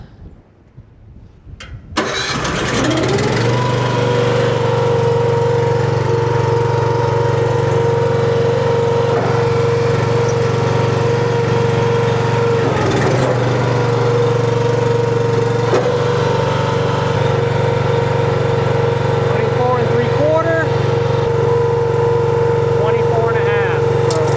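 A new log splitter's engine, fitted with a new stop bolt, cranks briefly and catches about two seconds in, then runs at a loud, steady, unbroken drone for the rest of the clip with no voices.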